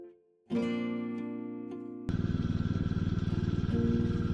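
A power trowel fitted with a new Harbor Freight engine, used while pouring a concrete porch, starts up with a sharp onset and settles into a steady droning hum, then jumps into a louder, rougher throbbing idle.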